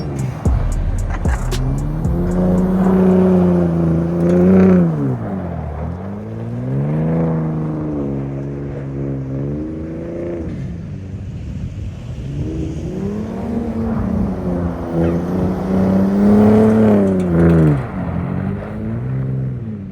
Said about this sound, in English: how to drift the motherfucking Ford Raptor